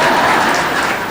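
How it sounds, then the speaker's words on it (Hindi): Audience clapping at a Hindi sermon on anger by a Jain monk, a dense, steady wash of applause filling the whole short moment with no voice over it. "ताली बजा दो जरा।"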